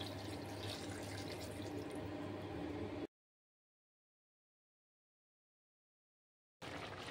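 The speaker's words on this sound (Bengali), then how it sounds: "এবার তাতে পরিমাণ মতো জল দিয়ে দেবো।" Water runs steadily into a pan for a Bengali rui fish head muri ghonto with rice, a continuous splashing pour lasting about three seconds before cutting to silence, then resuming briefly at the end.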